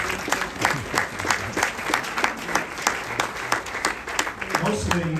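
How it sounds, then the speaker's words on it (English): Audience applause at an evening donor event fills the space with dense, steady clapping, with voices and crowd chatter mixed underneath throughout. "Can we give them a round of applause?"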